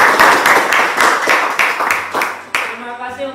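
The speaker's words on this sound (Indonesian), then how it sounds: "Oke, tepuk tangan semua buat kita kegiatan hari ini." A class of schoolchildren claps in unison, loud close hand claps in a quick regular rhythm, then fading as children's voices take over at the end.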